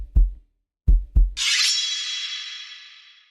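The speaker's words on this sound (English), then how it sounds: "This heartbeat" Heartbeat sample from a dubstep track: three deep thumping beats, a single one followed by a quick close pair, then a bright sustained whoosh swells in and slowly fades, with no talking.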